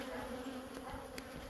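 Honey bees hum faintly and continuously around a hive frame, a soft steady drone with no talking.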